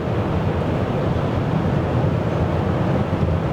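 Steady bassy roar of tire and wind noise inside a BMW iX 40 electric SUV on 20-inch 255 tires at 150 km/h on the Autobahn, constant and enveloping with no talk.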